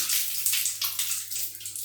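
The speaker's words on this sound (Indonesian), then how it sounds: "dengan air mengalir" Hands are washed under a running tap during a pediatric physical examination, giving a close, steady splashing rush with slight pulsing as the hands move through the stream, heard alone without talk.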